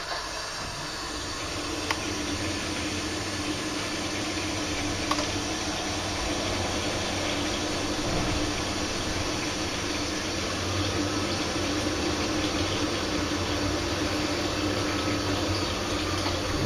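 A steady broadband roar with a low hum from a Baxi DuoTec condensing combi boiler firing for hot water, hissing continuously at an even level with no voices.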